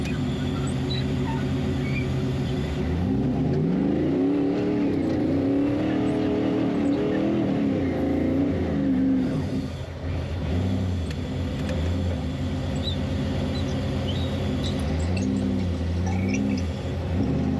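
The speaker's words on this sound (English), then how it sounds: "You can hear some of those cars go by." Off-road race cars rumble past in the pits at King of the Hammers, a steady engine drone with swelling revs as vehicles go by amid constant loud background noise.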